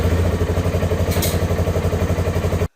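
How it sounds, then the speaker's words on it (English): A Polaris Ranger 570 mid-size UTV engine idles steadily right after an oil change, a close, loud, rhythmic chugging throb that runs evenly with no talk before cutting off abruptly at the end. "Now we want to start it up, let the oil circulate inside the motor"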